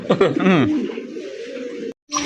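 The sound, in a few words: pigeons cooing at a pigeon market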